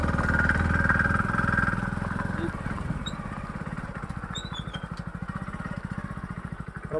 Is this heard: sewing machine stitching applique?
no